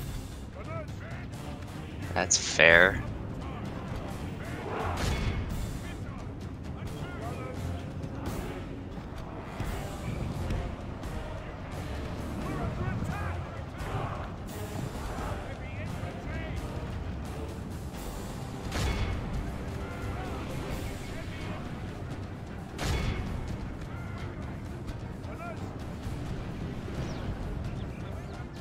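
Cannon fire in the video game Medieval 2 during a free-for-all battle between England, France and Scotland, with scattered booming shots and rumble under a continuous battle din while a player talks.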